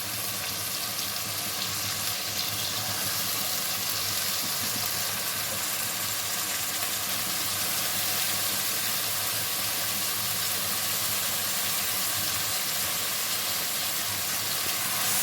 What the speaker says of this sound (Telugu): ఇప్పుడు కట్ చేసుకున్న వంకాయ ముక్కలు వేసుకుందాం